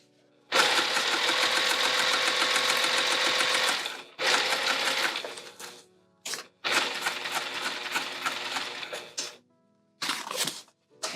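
A sewing machine runs in long bursts as it stitches a tote bag, steady fast whirring for about three and a half seconds, then shorter runs broken by brief pauses, close and loud with no talking.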